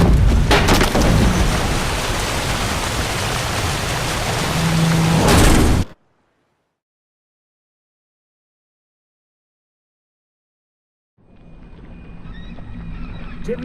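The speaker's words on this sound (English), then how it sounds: "Didn't bargain for no storm." A thunderstorm lashes the sea in The Witcher 3, with loud rain, rumbling thunder and creaking boat sounds for about six seconds. The sound then cuts to silence and returns more quietly later.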